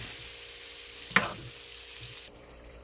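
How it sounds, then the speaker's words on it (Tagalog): String beans and squash sauté in a pan for pinakbet with a faint, steady sizzle, broken by a single sharp utensil clink against the pan. "Siyempre, inuna kong gisahin ang sitaw at kalabasa kasi matigas siya."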